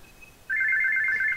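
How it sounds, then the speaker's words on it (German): A telephone rings with a rapid warbling electronic trill, starting abruptly and holding steady for about a second, loud and alone with no talk. "Telefon!"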